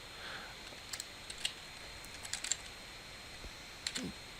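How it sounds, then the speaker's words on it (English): Scattered clicks of typing on a computer keyboard while working in Unreal Engine, a few light taps spread across a quiet background with no talk. "if we right click and just type in timeline"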